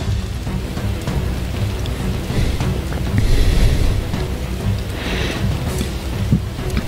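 Steady rain pours through the game world of Fuukan no Grasesta, a dense continuous hiss with a low rumbling undertone that swells slightly midway through, with no voices.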